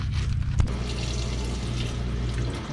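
Steady running water flows without a break while sweet corn is washed and scrubbed with a soft bristle brush, close and fairly loud, with a low hum underneath and no talking.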